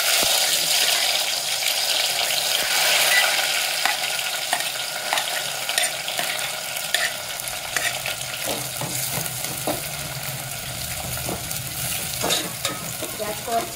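Onions frying in a pan for chicken curry, a loud, dense, continuous sizzle close up, with scattered scrapes and clicks of stirring toward the end.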